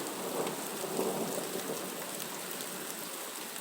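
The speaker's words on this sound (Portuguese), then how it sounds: "as plantinhas agradecem a chuva" Steady rain pours down with a low, rolling rumble of thunder beneath it, a dense, even hiss that stays constant throughout with no voices.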